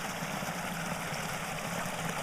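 A small artificial waterfall on a stream gives a steady, broad rushing and splashing wash, close and continuous throughout with no voices.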